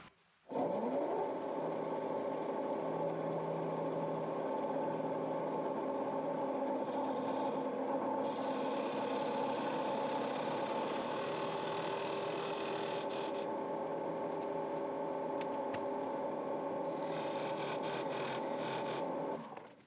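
A maple bowl spins on a wood lathe while a shop-made skew chisel and a parting tool cut it, giving a steady motor hum under a continuous rasping scrape, with brief brighter shaving bursts partway through.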